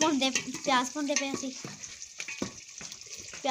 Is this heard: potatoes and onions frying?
yes